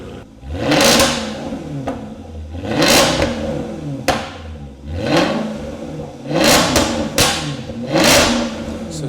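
A Jaguar XKR's 5-litre V8 revs hard through its exhaust, several loud surging blips rising and falling in quick succession with no voices.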